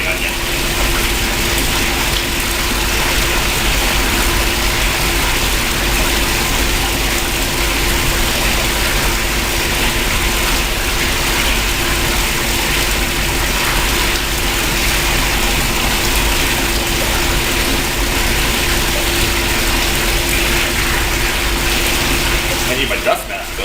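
A machine crushing gold ore from the Jessie mine grinds and rattles loudly and continuously, a steady mechanical clatter with a constant hum that barely changes throughout.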